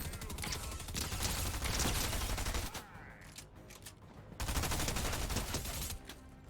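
Enemy gunfire from an attack in Fortnite, a dense, loud burst of rapid shots running through most of the stretch, with a brief lull in the middle before the firing resumes.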